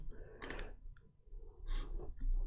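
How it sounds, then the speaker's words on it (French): A computer mouse gives a couple of crisp, close clicks in a quiet room, with a soft breath between them. "Donc on clique sur continuer."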